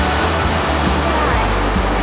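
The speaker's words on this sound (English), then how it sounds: "The waves are perfect." Ocean waves washing onto a sunny campground beach, a dense continuous roar of surf filling the short stretch, close and loud with no pauses.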